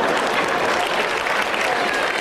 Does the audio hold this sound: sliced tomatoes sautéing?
no